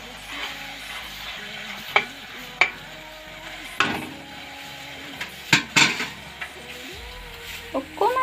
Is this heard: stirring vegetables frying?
yes